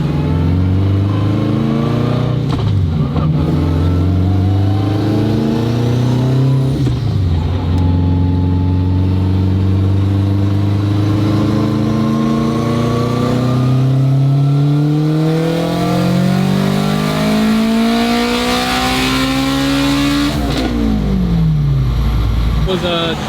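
Turbocharged Honda K-series engine in an all-wheel-drive RSX with a sequential gearbox, revving hard through loud dyno pulls, its pitch climbing and dropping sharply between rapid shifts, with brief voices heard over the engine noise.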